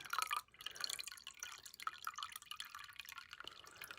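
Rusting solution trickles and drips into a jar, with small splashy droplets and a thin steady pour, close and fairly quiet.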